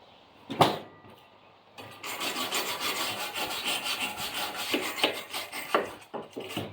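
A tool scrapes an old trailer's surface before painting, starting with one sharp knock and then a sustained rough rasping scrape in steady strokes, close and fairly loud.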